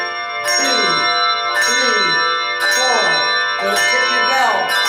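Handbells in a bell class ring four even quarter-note strikes about a second apart. Each struck tone is bright and metallic and hangs briefly before the next.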